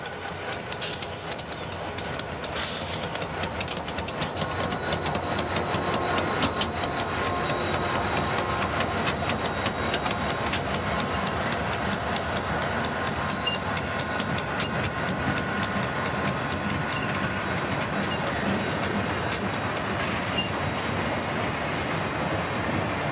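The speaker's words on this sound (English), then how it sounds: "an eastbound manifest breaks out of the tunnel" An eastbound freight train led by SD40T-2, GP60 and SD45T-2 locomotives rolls past with continuous loud rumble and rapid clickety-clack of wheels over rail joints, sustained for over twenty seconds without talk.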